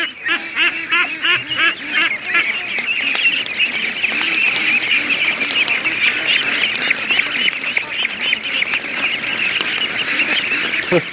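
A large flock of ducklings hurrying out toward a lake, producing continuous overlapping peeping and quacking calls, close and busy, with faint voices in the background.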